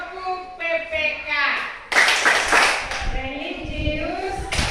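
Children and a teacher chant the Indonesian character-education values (religious, nationalist, independent, mutual cooperation, integrity) while clapping hands in sharp bursts, the claps and voices mixing in a lively classroom rhythm.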